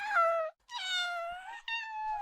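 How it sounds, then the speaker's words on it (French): Baby cat ambient sounds from Minecraft: three high, drawn-out kitten meows in sequence, clear and close with short gaps between them. "Vous avez celle des chats, alors je vais mettre juste les sons d'ambiance."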